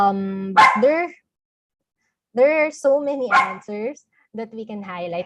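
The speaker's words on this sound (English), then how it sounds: "I'm sorry about my dog." A dog yips and barks in short bursts near the microphone during a talk, the barks interleaved with a person speaking steadily, with a clear pause between bursts.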